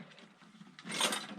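A metal toolbox drawer holding metric tools slides with a short rolling scrape that builds to a brief, brighter rattle near the end, close and fairly quiet.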